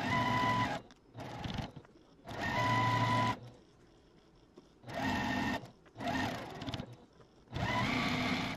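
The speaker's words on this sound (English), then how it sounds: "take all of these over to our machine and then sew down this side using a 1/4 inch seam allowance." A sewing machine stitches a quarter-inch seam on a quilt block in close, loud bursts of steady whirring, stopping and starting several times with quiet gaps between runs.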